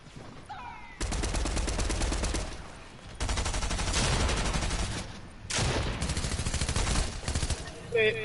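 Sustained bursts of rapid automatic gunfire from a Fortnite match, loud and close, in three long volleys separated by brief lulls, with faint voices underneath.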